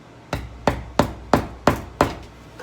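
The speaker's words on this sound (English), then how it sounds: "But I usually start it with my hammer." A hammer taps the handle of a drywall jab saw to start it into 5/8 drywall board: six sharp, evenly spaced strikes, close and distinct, each with a short woody thud, against quiet room tone.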